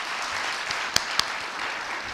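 A room of people applauding at a theatre gathering, a steady patter of clapping with a couple of sharper individual claps standing out, moderately close and continuous.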